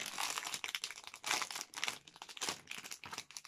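Gift wrapping paper for crafting is crinkled and handled up close in quick, repeated bursts of rustling and crackling across a few seconds, with no talking.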